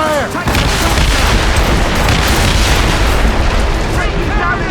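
Naval cannon volleys boom from sailing warships in Assassin's Creed Rogue, a dense, continuous roar of heavy blasts and crackling bursts filling the whole stretch, loud and close, with game voices shouting over the barrage.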